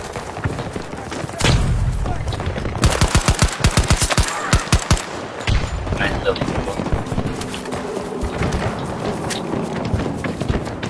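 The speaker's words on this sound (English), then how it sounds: "Grenade out." A grenade explosion and gunfire in Battlefield 2042 on PS5: a deep boom, then rapid automatic bursts and scattered shots with footsteps, with a player talking over the game sound.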